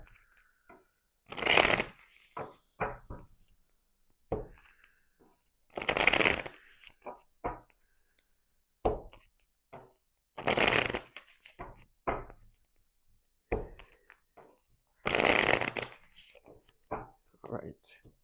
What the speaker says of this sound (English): We're going to do some shuffling.